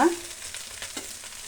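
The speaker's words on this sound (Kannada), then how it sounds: "ಎರಡನ್ನು ತಿರುಗಿಸೋಣ ನೀಟಾಗಿ ಸೊಪ್ಪು ಬೇಳೆ ಎಲ್ಲ ನೀಟಾಗಿ ಹಾಗೆ ಕಲಸೋಣ" Amaranth greens and moong dal are stirred together in oil in a frying pan, with a soft sizzle under brief scraping stir strokes, close and fairly quiet.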